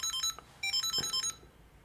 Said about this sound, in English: you can make it ring like that